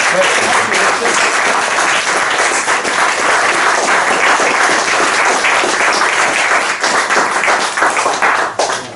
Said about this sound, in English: can I have a big round of applause for Rich?